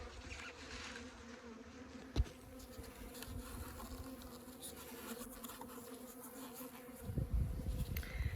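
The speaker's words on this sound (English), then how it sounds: "open up the entrance so that the bees can get in and out of there" Honey bees hum at a hive entrance under a shed floor in Arizona in a continuous, dense drone, close by, with a couple of faint knocks; no voices.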